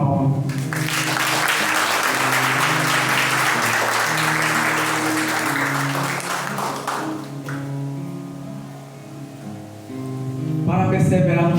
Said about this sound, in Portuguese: e é para esse Deus que quer uma salva de palmas.